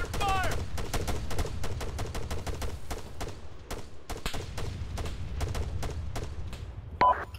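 Rapid, dense gunfire bursts in the Arma-style video game Escape Altis, sustained loud volleys with sharp repeated cracks and booms throughout, with a brief shouted voice near the start.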